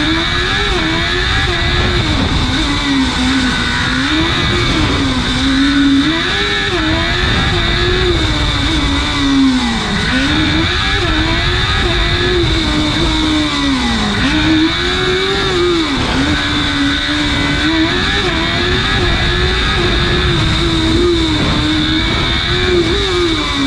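Race cars screaming at high revs on a rally speed stage, a loud continuous engine note wavering up and down with gear changes over a long unbroken stretch.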